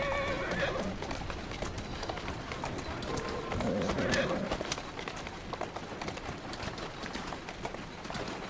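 A horse in the video game Assassin's Creed Syndicate neighs and gallops with steady hoofbeats, set against street ambience and someone talking over much of the sound.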